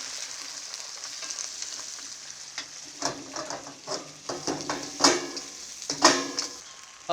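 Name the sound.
stir frying crab with ginger marinade in pan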